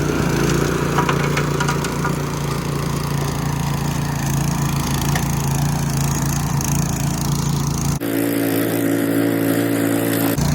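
A Classen TR20 dethatcher running over St Augustine grass, its engine a loud, constant drone with rattling tines, close by, with a sudden shift in tone near the end.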